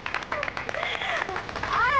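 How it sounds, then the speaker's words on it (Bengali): Scattered handclapping from a small group of family members at a home gathering, broken and uneven, mixed with overlapping voices and chatter. "হাততালি দাও সবাই।"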